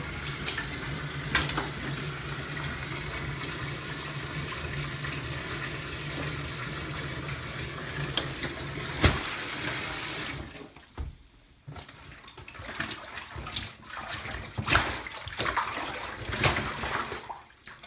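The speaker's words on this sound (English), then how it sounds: "Now we're going to try the submersion in the tub" A waterproof Rockagator RG25 backpack pushed under bathtub water, heard as steady close sloshing and bubbling for about ten seconds, then broken splashes, drips and handling sounds.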